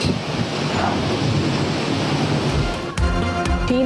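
Strong storm winds roaring during a powerful whirlwind in China, a loud, steady rush of gusting air buffeting the microphone, with a few sharp knocks and clatters near the end.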